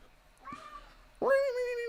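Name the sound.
cat meowing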